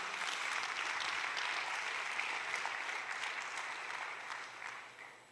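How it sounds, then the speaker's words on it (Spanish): A congregation claps for the Lord during a church sermon, a sustained and fairly quiet round of applause that fades out toward the end. "Dele fuerte el aplauso al Señor,"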